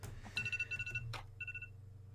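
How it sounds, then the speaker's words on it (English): A phone alarm rings in short repeated electronic trill bursts, two quick runs separated by a brief gap, quiet and alone over a low steady hum. "Sorry, phone alarm."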